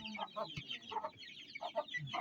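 Several hens cluck in short bursts, moderately close, with soft rustling and background noise between calls.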